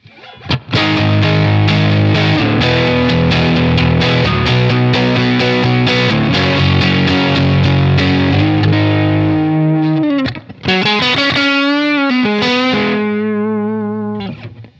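Heavy, loud distorted electric guitar lead tone shaped by pedals: chugging riffed chords give way to sustained, bending lead notes with wide vibrato, played alone without talk.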